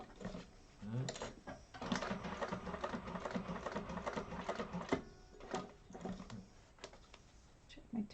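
Sewing machine top stitching and basting a leather-style wallet, running in bursts of fast mechanical stitching with short pauses and clicks between runs, close and fairly loud.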